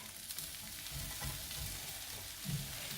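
Vegetables frying in a pan at home for a breakfast dish, with a soft steady sizzle and a few quiet stirring scrapes, fairly faint and without talk.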